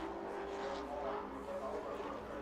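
Race car on a qualifying lap at New Smyrna, a steady engine drone held at a distance, fairly faint and continuous, with a faint voice in the background.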